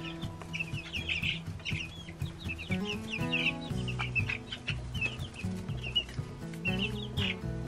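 Broiler meat chicks about two weeks old cluck and peep continuously at close range, a busy overlapping flock chatter with no talk.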